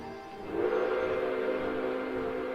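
A steam locomotive whistle in the train management game Railway Empire 2 sounds one sustained, steady tone, moderately loud, and holds for a couple of seconds.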